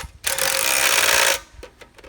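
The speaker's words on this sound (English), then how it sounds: "push your bucket up, and you tighten this bolt" An impact or power tool tightens the bolt on an excavator quick connect coupler, giving one sustained rattling burst of about a second, followed by a few short clicks and knocks close by.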